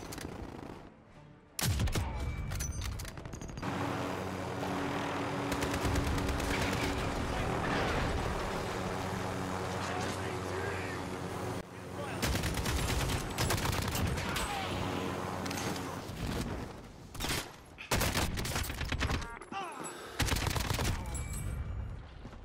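Sustained gunfire in the Call of Duty Warzone video game, loud volleys of automatic shots rolling almost continuously with brief gaps, under game sounds and occasional radio-style voices.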